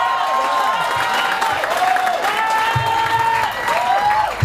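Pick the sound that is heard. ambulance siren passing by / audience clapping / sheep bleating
audience clapping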